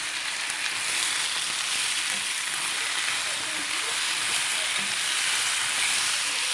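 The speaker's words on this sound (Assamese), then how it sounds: "তাৰপিছত এয়া মিশ্ৰণ কৰি থোৱা সকলো অকণমান ঢালি দিলোঁ একেলগতে।" A spice mixture hits a hot pan and fries with a steady, bright sizzle that continues evenly throughout, close and moderately loud with no talking.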